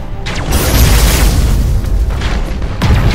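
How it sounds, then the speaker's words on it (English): Torpedo barrage explosions in the space battle game Battlefleet Gothic Armada, heavy booming blasts that roll into one another, loud and continuous, with a fresh deep impact near the end. "Torpedo barrage. Fire."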